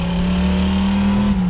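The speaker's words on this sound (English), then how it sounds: "And listen to that exhaust. Man, does it sound good." A 1970 Ford Maverick V8 exhaust holds a steady, loud, deep droning rumble at close range, unbroken for the whole moment with no voices over it.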